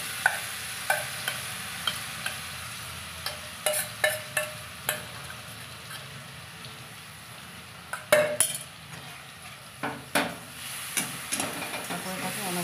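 A ground coconut mixture for barfi is stirred nonstop in hot white oil, so a spatula scrapes and knocks against the pan in a steady rhythm over a constant close sizzling hiss, with a cluster of louder scrapes near the end.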